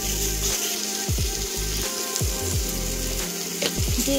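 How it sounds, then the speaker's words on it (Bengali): Ground spices and salt fry in a pan for fish-head mung dal, a constant loud sizzle broken by regular scraping strokes of a spatula stirring the masala. "লবণটা দিয়ে আরেকটু ভালো মতো মশলাটাকে কষিয়ে নিচ্ছি"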